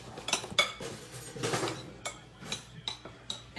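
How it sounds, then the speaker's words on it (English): A spoon clinks and scrapes against a cooking pot as a dish with torn fresh herbs is stirred, giving a run of close, sharp metallic taps spaced irregularly through a quiet kitchen. "All right, give it a stir."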